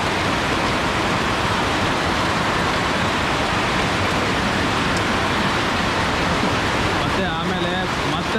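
Heavy rain pours down in Munnar's hill tea-plantation country in Kerala, a dense, steady roar that stays loud and unbroken throughout, with a brief faint disturbance near the end.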